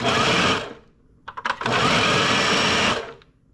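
A food processor pulses black beans for burgers: a loud whirring burst of about half a second, a few short choppy blips, then a longer steady roar of about a second and a half, with no talking.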